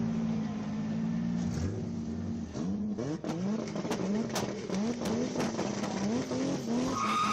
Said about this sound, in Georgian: ძრავების გრუხუნი და არის მეორე გარბენის სტარტი და პირველი მოწყვეტა